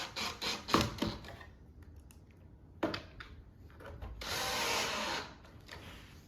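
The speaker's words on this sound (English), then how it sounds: "Put the screws in." Screws are driven into a wooden farmhouse shoe bench, most likely with a power driver. There are short bursts, a few knocks, and a longer whirring drive near the end, fairly close and with no talk.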